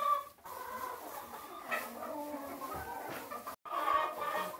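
Homestead chickens clucking and murmuring close by in a quiet farmyard coop, soft overlapping calls continuing throughout with a brief gap near the end.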